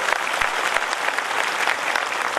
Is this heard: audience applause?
yes